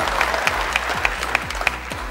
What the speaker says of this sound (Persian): تشویق کنین جلال.